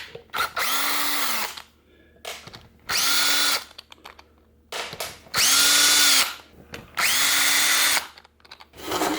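An impact or power tool spins out the four bolts on a Doug Nash 4+3 overdrive cover from a Corvette, loud and close, running in four separate bursts of whirring with short quiet gaps between them.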